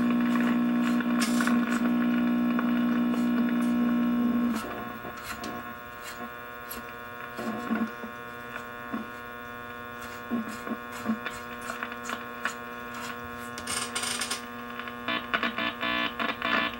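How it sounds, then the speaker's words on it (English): Steady static hum and buzz from a 90-year-old Sparton Model 254 AM table radio at full power, with a strong tone for the first few seconds, then continuous crackling noise with intermittent bursts, moderately loud and with no talk. "That static is more than likely the electrolytic capacitor starting to reform a bit."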